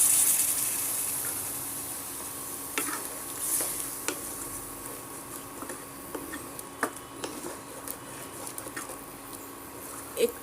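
Poppy seed paste being stirred in a pan after a small cup of water was added, with soft scraping and faint sizzling, a few clearer clinks of the spoon against the pan, quiet and close.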